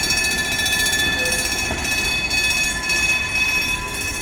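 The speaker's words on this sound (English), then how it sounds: "There's the train." Train rolling past at Laxey on the Isle of Man, a continuous loud clatter of wheels on rails with a thin squeal riding over it, no voices.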